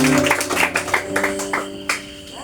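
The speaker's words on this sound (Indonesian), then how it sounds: "Kita tepuk tangan untuk Tuhan kita." A congregation at a Christian revival service claps in a steady rhythm, the sharp claps landing over sustained keyboard music.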